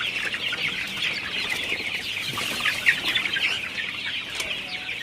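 A flock of 39-day-old Sonali super hybrid chickens on a farm makes dense, continuous overlapping chirps and clucks, moderately loud and with no voices.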